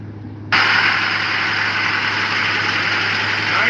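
A rebuilt Camaro Z28 engine with roller chain and roller cam, mounted in a car under restoration, fires up and runs at a steady idle, a loud, even drone close by with no voices.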